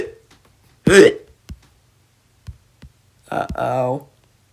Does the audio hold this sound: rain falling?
no